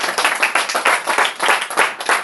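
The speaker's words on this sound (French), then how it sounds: "Veuillez applaudir pour le Seigneur." A church congregation claps together in a quick, pulsing rhythm, loud and close, with the beats swelling and fading in waves.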